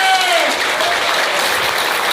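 An audience at a motivational speech applauds, a loud, dense, continuous wash of clapping that holds steady throughout, with a faint voice briefly audible at the start.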